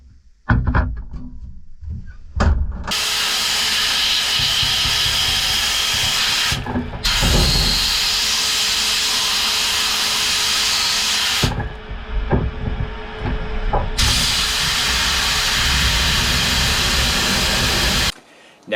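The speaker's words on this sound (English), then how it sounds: "I'm going to use my soda blaster to clean these up." Compressed-air soda blaster hissing loudly in long steady bursts while cleaning Mikuni carburetor parts from a Yamaha 1200 non-power-valve jetski, with short pauses and clicks between blasts.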